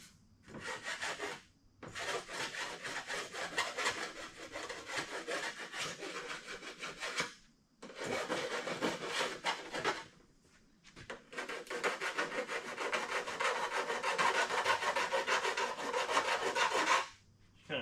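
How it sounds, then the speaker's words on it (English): A hand file rasps along the edge of a fan shroud for a 1960 Chevy Bel Air, scraping away burrs in long continuous strokes separated by short pauses, close and steady with no voices. "We'll take a file and just kind of clean the edge of this stuff right here"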